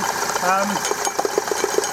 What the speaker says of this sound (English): it very much sounds like it's the top of the engine